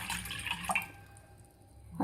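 Water poured from a container into a cooking pot, one and a half small bowls measured for boiling barnyard millet; a brief splashing pour in the first second, trailing off into quiet ringing.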